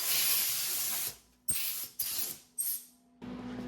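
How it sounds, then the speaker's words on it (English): Air blower on a small CNC machine clearing chips out of drilled holes: a close, loud hissing blast followed by three short bursts of air, each cutting off abruptly, with a faint mechanical hum between. "We can blow any chips out of the holes."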